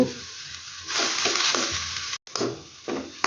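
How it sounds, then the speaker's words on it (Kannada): Onions frying in a pan during butter garlic mushroom preparation, with a steady sizzle broken by stirring scrapes and a brief pause, close and clear. "ಆನಿಯನ್ ಫ್ರೈ ಆಯಿತು ನೋಡಿ"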